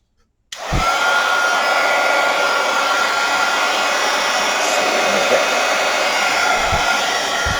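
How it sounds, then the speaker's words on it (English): Heat tool blowing hot air onto a faux metal craft tag, switching on abruptly and then holding a steady, loud, close whoosh through to the end, with a few faint clicks and knocks underneath. "And then get my heat tool here."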